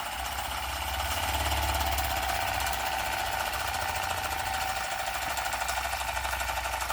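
A Retrol SE-03 small vertical steam engine drives a generator, a steady mechanical chugging throughout, a close, continuous rhythmic thumping with a constant hum, like a small engine working under load.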